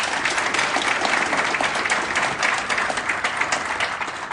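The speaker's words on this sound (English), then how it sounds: "Round of applause." Audience applause for panellists at a business talk event, a dense steady wash of many hands clapping at close range throughout, with no voices over it.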